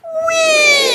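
A single human voice imitates a siren, sliding in one smooth, sustained tone from a higher pitch gently downward over about a second, close and clear against a quiet room.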